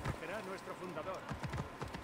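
Horse hooves clip-clop in a quick rhythmic run in Assassin's Creed Origins, close and steady, with someone talking over them.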